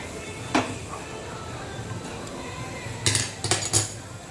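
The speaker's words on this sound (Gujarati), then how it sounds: "હવે આપણે દાળને પાછું ઉકળવા માટે ગેસ પર મૂકીશું." A metal pot of dal is set onto a gas stove with a clink, followed by a cluster of sharper metallic knocks and scrapes of utensils, fairly close, over faint room noise.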